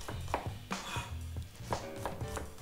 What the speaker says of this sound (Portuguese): tenho o alho, que vou laminar grosseiramente